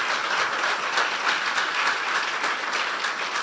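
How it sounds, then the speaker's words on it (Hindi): A church congregation applauds during a sermon, dense continuous clapping from many hands that fills the room at steady loudness for several seconds, with no talking. "अगर आप बरकत पा रहे हैं तो यीशु के लिए तालियां बजा दें"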